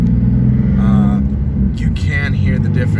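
A BMW Z1 fitted with new test pipes rumbles with a deep, steady exhaust drone close by, holding level for the full few seconds while a voice speaks over it.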